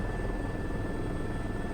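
Loud, steady rotor and turbine whine of a helicopter flying a fast, high sling load approach, constant and close with no speech.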